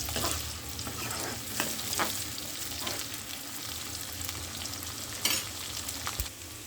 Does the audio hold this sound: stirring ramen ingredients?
yes